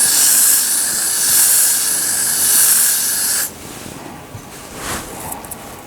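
Got2b Glued Blasting Freeze Spray hisses out in one loud continuous aerosol burst onto wig lace for about three and a half seconds, then cuts off, leaving faint handling sounds.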